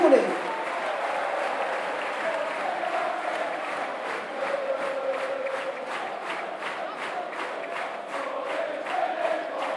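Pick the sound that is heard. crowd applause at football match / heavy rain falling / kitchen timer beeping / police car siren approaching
crowd applause at football match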